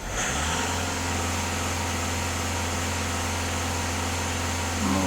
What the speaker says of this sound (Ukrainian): даю знову оберти, щоб побачити, що він показує на обертах